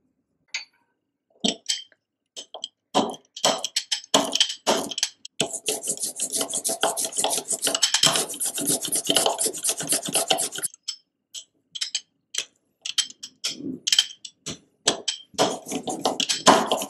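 A palette knife mixes printing ink on a palette for lino printing, giving close, quiet rasping scrapes, first in short separate strokes, then a sustained stretch of rubbing, then scattered strokes again.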